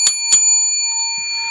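Two bright, ringing bell chimes sound in quick succession for a lottery scratch-off win, followed by a faint low thump, with steady electronic tones humming beneath.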